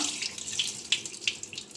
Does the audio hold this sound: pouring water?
yes